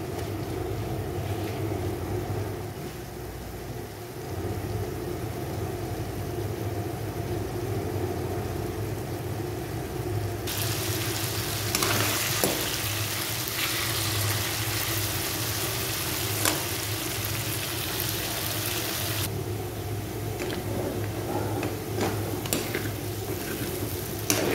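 Carrots and potatoes fry in a pan, half-cooking for a beef menudo. A steady sizzle runs throughout and grows brighter and louder through the middle stretch, with no voices.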